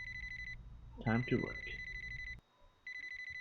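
A repeating electronic alarm clock in the video game Lucid 9 rings in rapid pulsed bursts, cut off while a voice speaks over it, then briefly silenced before resuming.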